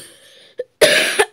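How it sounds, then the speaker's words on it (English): A short throat-clearing grunt followed by a harsh, rasping clear of the throat, close and loud. "Gotta clear my throat."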